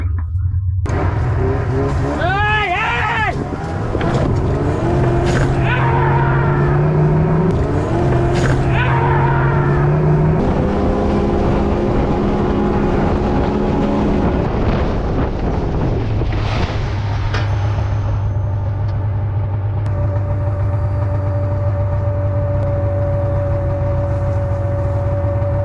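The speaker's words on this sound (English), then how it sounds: "the snowmobile suddenly accelerates, unintentionally pulling the entire fishing tent, with the man still inside, across rough, uneven ice" Snowmobile engine on a remote frozen lake revving and accelerating across rough, uneven ice while dragging a portable fishing tent, loud and close with rising and falling engine pitch, heavy wind rumble, and a steadier drone near the end.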